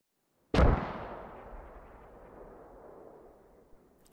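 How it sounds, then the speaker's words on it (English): A single heavy mortar impact in Squad bursts loudly after a half-second of silence, then a long rumbling tail slowly decays with faint debris pops. "Very sporadic mortar fire."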